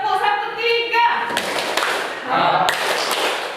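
A class of students claps in a set rhythmic pattern, several sharp group claps in sequence following a teacher's call, with voices chanting along before and between the claps.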